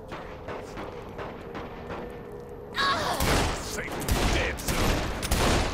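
Rapid automatic gunfire from a shooter game erupts midway after quieter ambient game sounds, a loud, dense burst of shots with thuds running to the end, with no talk over it.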